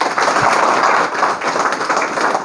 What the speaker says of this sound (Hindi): मैं चाहता हूं एक बार अरुण कुमार शर्मा सर के लिए जोरदार ताली